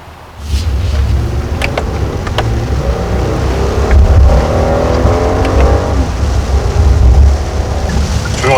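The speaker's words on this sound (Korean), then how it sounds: "이거 엔진 사운드 맞는 것 같은데" The engine of a Kia THE K9 sedan hums as a continuous, fairly loud, smooth drone, swelling slightly at times, with no voices over it.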